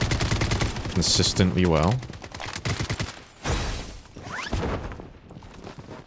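A full-auto SKS rifle fires in the shooter Blood Strike, with fast cracking bursts of rapid shots mixed with game effects, while someone talks over the shooting.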